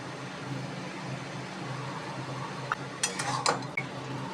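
Dry chillies and mustard seeds fried with salt in a pan are stirred, a steady low frying hiss giving way to a few sharp scraping clinks of a spoon against the pan near the end.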